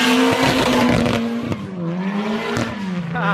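A Trans Am drifts, its tires letting out a loud, sustained squeal over the engine's roar, with the pitch wavering and sliding as the slide carries on.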